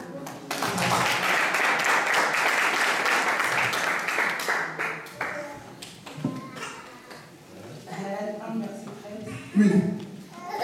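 A church congregation applauds to acclaim the Lord, with loud sustained clapping for about five seconds that fades into scattered claps and voices.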